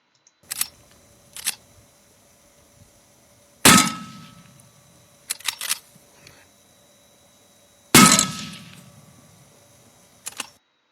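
A gun fires into a ballistic pendulum in a physics lab: two sharp, loud bangs a few seconds apart, each with a short ringing decay, plus fainter clicks and knocks from handling the setup, with no talk.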